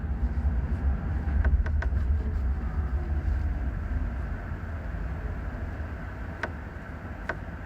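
Cruise self-driving car accelerating hard after creeping along slowly, a steady low rumble of road and drivetrain noise with a few faint clicks, fairly close and even throughout.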